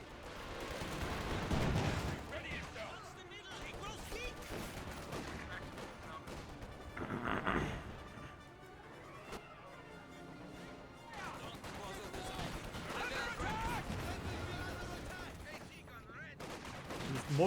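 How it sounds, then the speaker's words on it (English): Anti-tank rifles and guns firing in a Company of Heroes 2 battle, repeated shots hitting sandbags amid a dense, busy mix of explosions and battlefield noise, with voices talking over it throughout. "The AT rifles missed and hit the sandbags over and over again and destroyed them."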